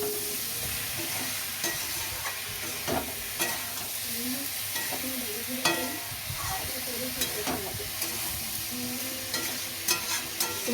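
Ridge gourd and potato curry fries in a pan with cumin powder and spices as it is stirred. A steady close sizzle runs under repeated scraping and clinking stirs, with no voices.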